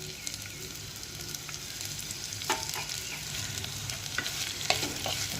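Chopped onion frying in hot oil in a pan, a steady close sizzle and crackle with occasional soft stirring knocks, no talking.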